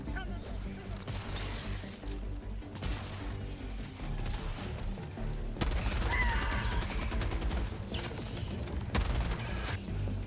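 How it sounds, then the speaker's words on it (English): Sustained bursts of heavy machine gun fire in Helldivers 2, loud rapid volleys with brief pauses between strings of shots, under a voice talking throughout. "with the heavy machine gun's stagger power, you can stun lock them quickly and eliminate them before they close in"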